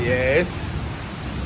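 Steady rain noise fills the whole short stretch, a broad constant wash under a brief spoken word at the start.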